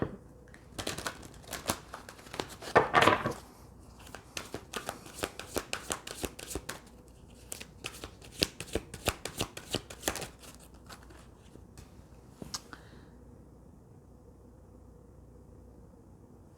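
Tarot cards are shuffled by hand close up, giving dense papery riffles and slaps in bursts that thin out near the end, quiet and with no talk.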